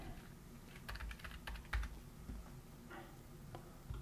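Keys clatter on a computer keyboard in short, irregular bursts of close, fairly quiet clicks with brief pauses between them, and no one speaks.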